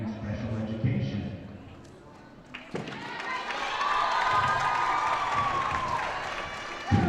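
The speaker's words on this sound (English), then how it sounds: "Let's give them one more round of applause" A gym crowd at a West Side versus Aberdeen high school volleyball game applauds and cheers for the senior players. The clapping swells after a quiet start and holds steady, with shouts and a whistle-like tone rising above the noise.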